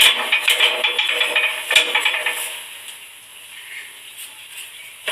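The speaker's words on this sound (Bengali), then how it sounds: "এই যে আরেকটা দিলাম, এটা ওটা চাটুতে দিলাম।" A rolled roti is set onto a hot tawa griddle, giving a soft clatter of utensils over a light, steady sizzle that fades to a quieter hiss.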